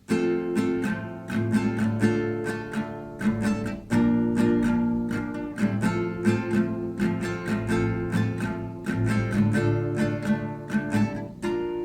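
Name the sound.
guitar strumming verse part, played twice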